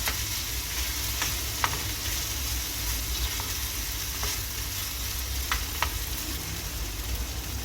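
Prawns and onion frying in a pan, a steady dense sizzle throughout with a few faint clicks of stirring, no talk.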